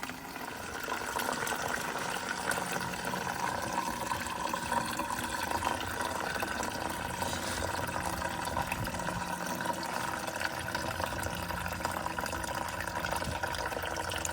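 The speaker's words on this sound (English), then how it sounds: "there is a little tap just there, which makes it easier to drain. Draining some coolant now." Coolant drains from a small tap on a Volkswagen Polo 1.9 TDI during a thermostat replacement, a steady close trickling and splashing of liquid that continues evenly throughout, with no talk.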